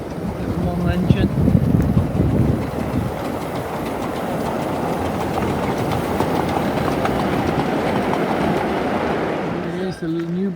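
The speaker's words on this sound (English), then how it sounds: "the model railway that goes all the way around the hall. Here it is coming in." A small model railway engine at Newby Hall rumbles and clatters steadily as it approaches and runs past, fairly loud, with a brief squeal near the end.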